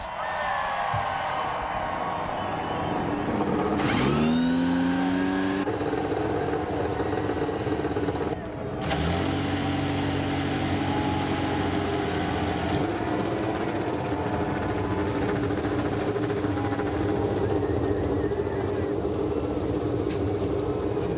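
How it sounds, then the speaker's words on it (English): Several IndyCar race car engines fire up and rev at a 2006 Nashville oval race, a loud, dense engine roar with rising and falling pitch sweeps and sharp throttle blips, continuous throughout with a brief dip before picking back up. "So all the engines apparently have come to life."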